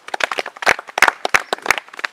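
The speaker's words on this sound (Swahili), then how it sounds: "Mpigieni makofi." An audience at a church parish day out bursts into applause, a burst of many hands clapping in uneven rhythm with sharp peaks throughout, fairly close and loud, with no talk over it.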